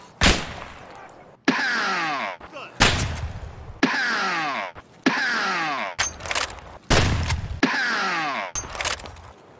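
A human voice imitates rapid Kedr submachine gun fire from Escape from Tarkov in a series of loud, sharp bursts, about seven of them, each a quick rattling spray separated by brief pauses.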